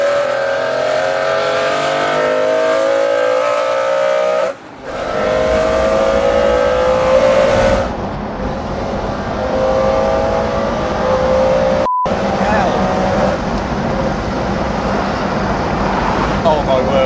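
A McLaren F1 supercar accelerates hard through the gears, its engine note climbing repeatedly with sharp breaks at each upshift, loud and close from inside or near the car, with no talk over it.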